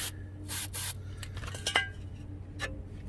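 Cleaner sprayed on the front brake parts of a VW Jetta mk5, two sharp hissing bursts from an aerosol can followed by softer rubbing and scraping close by.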